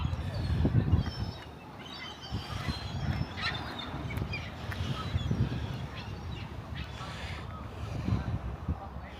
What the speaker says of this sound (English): We've got some wildlife, some seagull action.